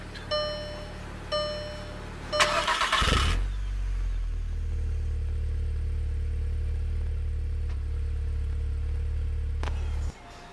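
Push-button start of a 2013 Volkswagen Golf R with six-speed manual: two electronic chimes, then the starter whirs and the engine catches with a brief rev, settling into a steady low idle before cutting off near the end.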